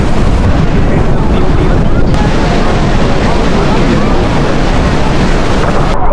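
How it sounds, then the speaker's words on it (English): Niagara Falls thunders as a Maid of the Mist tour boat sails close to the powerful waterfall, a dense, unbroken roar with heavy wind buffeting the microphone throughout. "Now we are sailing close to falls."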